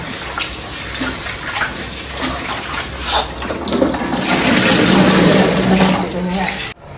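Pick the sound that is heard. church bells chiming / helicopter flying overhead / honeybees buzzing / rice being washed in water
rice being washed in water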